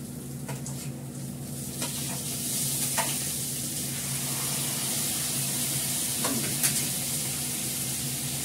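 Fish curry with potatoes sizzles and bubbles in a pan after water is poured in, a steady loud frying hiss with occasional scraping clicks and splashes from stirring, continuous and close with no talking.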